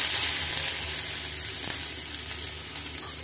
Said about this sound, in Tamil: அதுக்காக தான் நான் நெய்யில் வறுக்கிறேன்